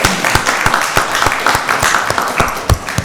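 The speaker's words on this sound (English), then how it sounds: "Let's give Ms. Samuels another round of applause." A small audience at a county board of commissioners meeting applauds a speaker, loud, close clapping with individually distinct sharp claps in a loose, uneven rhythm over a few seconds.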